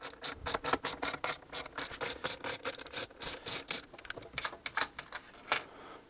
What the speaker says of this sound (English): So I'm gonna remove these bolts.